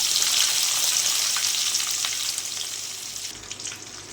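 Steady, close sizzling of finely chopped onions frying in hot oil with mustard seeds and cumin, a dense crackling hiss that eases slightly toward the end, with no voices.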